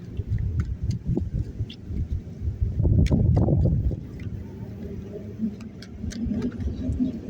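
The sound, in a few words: wind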